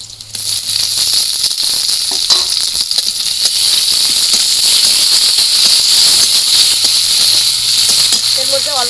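Onion and a small tomato frying in hot oil in a pan, a steady loud sizzle and hiss running throughout with faint clinks of stirring.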